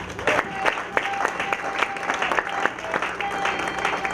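A church congregation claps in praise during a French-language service, loud, lively applause with sharp individual claps standing out and faint crowd voices mixed in throughout.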